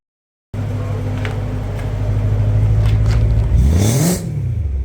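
A BMW M3 E93 with a custom valved exhaust, valve closed, idles with a steady low rumble, then blips its throttle in a quick rev that rises and falls back to idle, heard up close with no voices.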